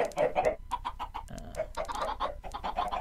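Chickens in a Minecraft automatic chicken cooker farm cluck in quick, busy bursts, several birds overlapping close by with no talk.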